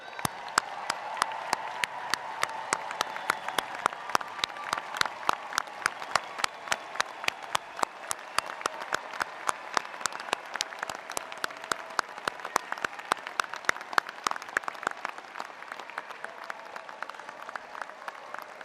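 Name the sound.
audience applause at graduation ceremony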